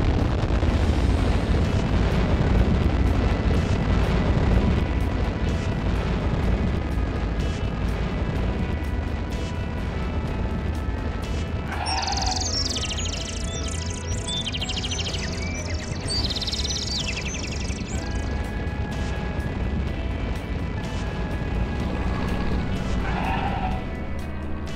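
Cartoon rocket blast-off: a sustained, roaring rumble of rocket thrust, loud and continuous, with bright chiming effect sounds layered in midway and again near the end.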